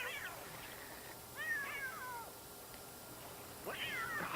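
Cats fight in the life-simulation video game The Sims 3. A few short, rising yowls and meows sound faint against a quiet background, separated by brief pauses.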